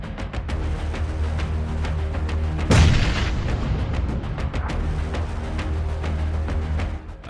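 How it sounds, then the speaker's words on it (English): A truck tire explodes inside a garage with one sudden loud boom that dies into a lingering rumble, with steady workshop noise before and after. "A truck tire explosion is never a good thing, especially when you're standing nearby."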